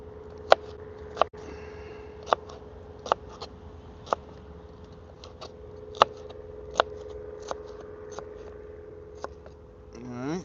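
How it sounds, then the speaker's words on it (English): A knife chops a pepper on a board outdoors beside a wood-burning stove, making about a dozen sharp, evenly spaced taps over a low steady hum. "let's get this pepper cut up here"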